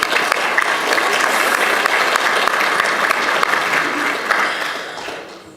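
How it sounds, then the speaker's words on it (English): A church congregation at a Sunday morning service gives loud, dense applause that holds steady before tapering off near the end. "Let's give Bun Bun a big round of applause for being here this morning."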